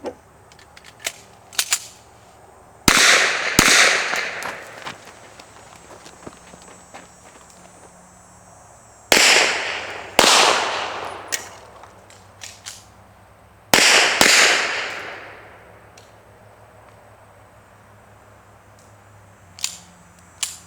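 Pistol shots on a practical shooting course, fired in three quick pairs with reloading pauses between them, loud and sharp with echoing tails, plus faint handling clicks and footsteps.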